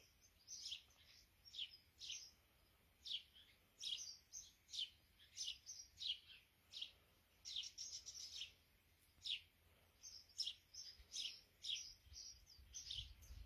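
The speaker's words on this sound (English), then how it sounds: "I can't sit here letting you listen to the noisy birds all day." Birds chirp and tweet in quick, repeated bursts outdoors, fairly close and steady, with quiet background between calls.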